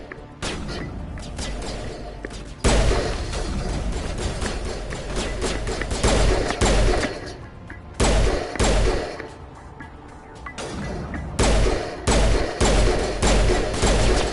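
Rapid pistol gunfire in the Mass Effect video game, a dense run of sharp shots and booming impacts in bursts with brief gaps, loud and continuous throughout.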